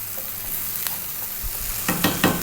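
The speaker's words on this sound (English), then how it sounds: "I'm going to just stir fry around for about 3 to 4 minutes" Fish stir-frying in a wok over high heat, a constant sizzle with spatula scrapes and a few louder clacks of metal toward the end.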